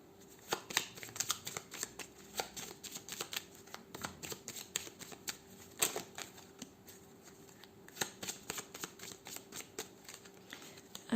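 A 32-card deck of playing cards riffled and shuffled by hand, a close series of crisp snapping flutters and taps in quick irregular bursts, fairly quiet with no talk over it.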